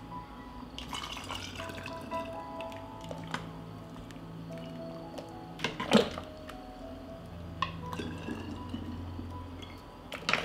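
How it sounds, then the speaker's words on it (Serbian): Hot tomato is poured from a pot into sterilized glass bottles, giving faint liquid trickles and glugs with light glass clinks and one sharper knock midway, in a quiet kitchen. "U sterilisane flaše sipam vreo paradajz."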